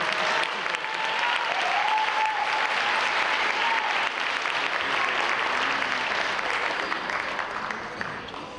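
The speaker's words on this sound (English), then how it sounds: "Round of applause." Sustained applause from an audience at a fifth-grade moving-up ceremony, dense and steady for several seconds before tapering slightly, with faint voices underneath.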